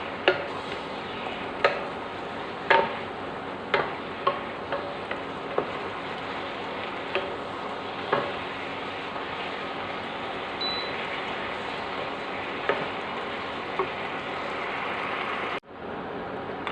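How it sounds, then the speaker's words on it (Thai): Shrimp and glass noodles stir-fried in a pan with oyster sauce give a steady, soft sizzle and crackle, with light scraping and occasional sharp taps of a utensil against the pan. "เสร็จแล้วเราก็จะผัดต่อ"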